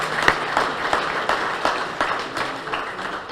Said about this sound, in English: I want to give you a round of applause myself.